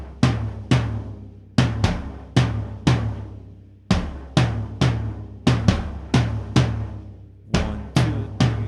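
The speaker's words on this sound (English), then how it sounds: "but now we just add another kick and low tom." A drum kit plays a pattern of kick drum and low tom. Loud, close, resonant hits come in repeating groups of strokes with decaying booms and brief gaps between the phrases.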